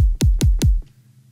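FL Studio default kick drum sample played three times in quick, even succession, each a loud punchy thump with a falling boom, followed by near silence.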